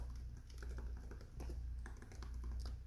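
Quiet, rapid keyboard typing while entering code, a steady patter of soft key taps under a low background hum, faint and close.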